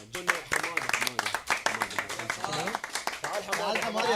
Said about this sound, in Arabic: تريد تصفيق لهذا البطل اللي تحمل الضغوطات القوية كلش